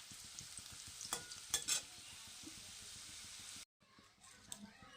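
Bay leaves, dried red chillies and whole cumin hit hot oil in a pan, giving a close steady sizzle with a few louder crackling bursts, then a sudden brief cut before the frying resumes.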